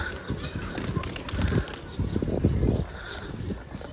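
Pigeons flapping their wings as they come out of their coop, a close, busy flutter of beating wings with faint bird sounds, loud and continuous throughout.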